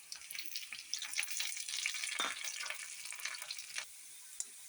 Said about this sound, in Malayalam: ഇഞ്ചിയും വെളുത്തുള്ളിയും നല്ലതായിട്ട് ഇവിടെ വഴന്ന് വന്നിട്ടുണ്ട്.